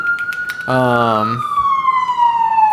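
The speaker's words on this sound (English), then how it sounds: "They're bringing in the sirens, bringing in the heat." A siren effect in a cooking livestream: a steady electronic tone, then a short burst of a harmonic wailing note, then a falling siren sweep that carries on loud and clear.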